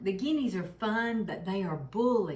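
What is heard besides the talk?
None of the usual background noises is heard.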